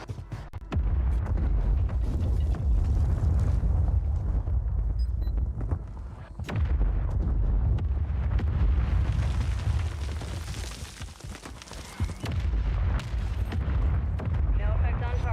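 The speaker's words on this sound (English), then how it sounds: "Mortar strike inbound." Mortar strike explosions in a video game, heavy booming blasts rolling one after another with short gaps between them, loud and dense, with game noise and a voice under them.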